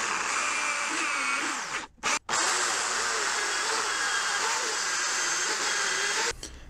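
A power drill bores a hole through the handle of a steampunk ray gun, a loud sustained whine near the microphone that breaks off briefly twice, then runs on steadily before stopping.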